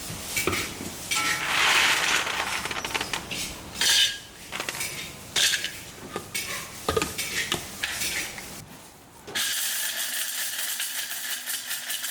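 Asafoetida is ground into powder for a homemade spice mix, with clinking utensils and scraping first, then a sudden steady, whirring grind that runs on evenly to the end.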